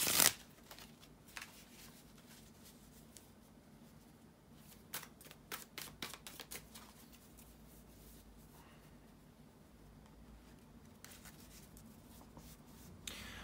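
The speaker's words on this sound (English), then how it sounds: "to shuffle the tarot cards" Tarot cards are shuffled repeatedly in quick papery riffles and flutters, close up and quiet, with pauses between bursts and no talking.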